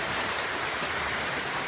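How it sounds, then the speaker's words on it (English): Heavy rain pours down outdoors on a cold early morning during a motorcycle trip, a dense, even hiss of falling water that fills the whole short stretch without pause or voices. "And Jesus Christ, it's pissing down rain."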